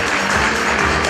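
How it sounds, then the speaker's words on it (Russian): Dense, steady applause for award winners at a regional competition ceremony, a continuous wash of many hands clapping with no pauses over a brief stretch. "Аплодисменты первым победителям!"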